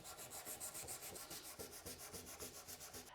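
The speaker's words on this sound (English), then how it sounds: "using the included sandpaper, scuff up the tail where the minks will be applied" Sandpaper scuffing the tail of a surfboard before mounting fin diffusers, a steady rhythmic rubbing with repeated back-and-forth strokes, close and continuous with no talking.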